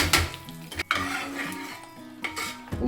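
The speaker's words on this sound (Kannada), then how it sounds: "ಇವಾಗ ನಾವು ಮೊದಲೇ ಸ್ಮ್ಯಾಶ್ ಮಾಡಿ ಇಟ್ಕೊಂಡಿದ್ವಲ್ಲ ದಾಲ್ಗೆ ಒಗ್ಗರಣೆ ಹಾಕೋತಿದ್ದೀನಿ." Hot tempering of spices poured into mashed dal, a brief sizzle mixed with the clink and scrape of a spoon stirring in a metal pot, close and moderately loud.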